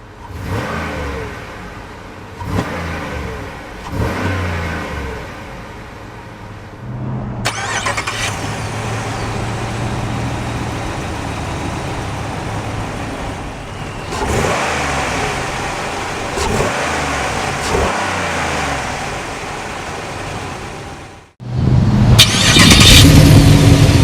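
A 2008 Buick LaCrosse Super's 5.3-litre small-block V8 rumbles through its exhaust with a deep, steady burble, swelling with a few throttle blips and revs before a short pause and a final loud surge, with no talking.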